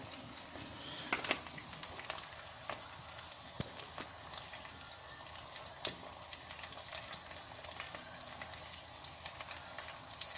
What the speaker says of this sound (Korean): 맛있게 튀겨지고 있습니다.